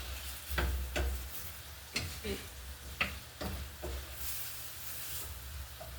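Frozen vegetables cooking in a pan with honey, glaze and soy sauce give a soft, low sizzle, broken by a few sharp ticks and clinks of utensils against the pan.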